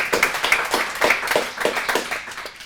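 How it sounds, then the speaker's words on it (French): A small audience claps for a presenter at a tech talk, a thin run of scattered hand claps with a loose rhythm that fades slightly toward the end. "Et bravo Jason, on peut l'applaudir."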